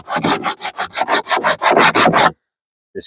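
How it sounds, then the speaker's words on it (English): Sanding a wooden skiff bulkhead by hand, about eleven quick rhythmic rasping strokes, close and loud, then a sudden stop into silence with a faint touch at the end. "Just going to sand it a little bit"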